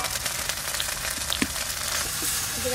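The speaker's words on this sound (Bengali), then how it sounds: "ফোড়নে শুকনো লঙ্কা আর জিরে দিয়ে দিলাম।" Dried red chilies and cumin seeds hit hot oil for a Bengali tempering, giving a steady, close frying sizzle with faint crackles throughout and no talking.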